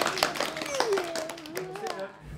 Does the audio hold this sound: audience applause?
yes